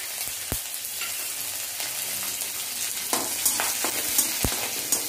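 Green chillies and curry leaves sizzle in hot oil for a tadka, giving a steady crackling fry close by with sharp pops scattered through it and no talking.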